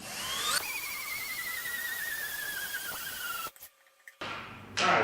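A power drill fitted with a mixing paddle stirs a floor epoxy kit, its motor whining steadily and close with a slowly drifting pitch, then cutting out briefly before spinning back up.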